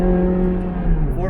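Ferrari Challenge Stradale engine in a tunnel, a loud sustained roar with strong harmonic drone that dips slightly in pitch near the end, brief and close.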